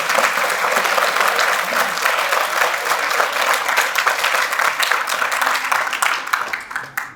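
Loud, sustained audience applause at an annual community celebration in Meerut, a thick steady roar of clapping hands that tapers off in the final second.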